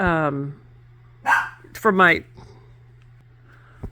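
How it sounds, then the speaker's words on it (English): A few sharp dog barks ring out close by, separated by short gaps, with a steady low hum running underneath. "sorry guys, my dogs"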